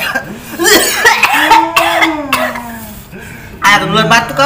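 Loud, close coughing bursts from a man in a comedy skit, broken by talking and a bit of laughter.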